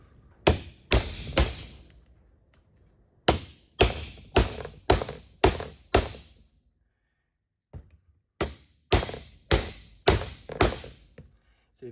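A drift hammered to seat tailshaft bearing caps on a 1972 Land Rover Series IIa: sharp metallic taps in quick runs of three to five blows, separated by short pauses, close and loud with no talking.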